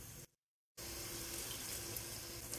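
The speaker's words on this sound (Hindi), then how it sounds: "साथ साथ हम थोड़ा थोड़ा पानी ऐड करेंगे ताकि मसाला जले ना।" Water is poured into frying masala in a pan as shahi dal is cooked, a steady gushing pour that cuts out for a moment, then continues unbroken to the end.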